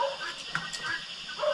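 A stray dog gives a few short, close yips and whimpering barks outdoors, with faint background noise between them.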